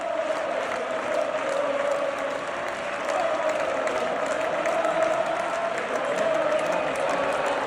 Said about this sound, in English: Smiles, flags, applause, and the Barça anthem echoing so loud it felt like all of Catalonia was singing it together.